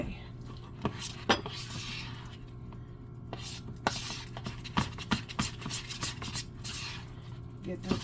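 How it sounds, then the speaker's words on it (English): A utensil clinks and scrapes against a pot while butter and flour are mixed together for chicken pot pie, irregular sharp taps and scrapes close by over a low hum. "Get this butter and flour mixed together good."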